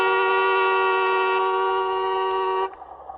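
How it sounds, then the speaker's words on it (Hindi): One long, steady car horn blast sounds loud and close, holding a single tone for nearly three seconds before it cuts off, leaving faint background noise. "हॉर्न बजाओ ना।"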